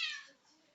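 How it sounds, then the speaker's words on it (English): A cat gives a single short meow, bright and fairly close, fading quickly into quiet room tone. "Sorry for the cat."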